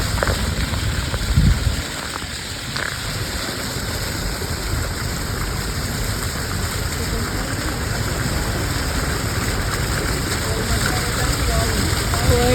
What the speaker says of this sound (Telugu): వర్షం ఆగట్లేదు